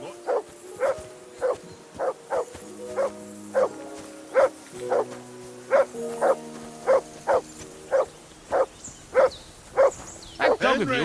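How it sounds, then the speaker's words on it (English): A dog in Kingdom Come: Deliverance II barks in a steady, regular run of about twenty loud barks, with low medieval music underneath and no talk. "That dog of yours is barking like the devil."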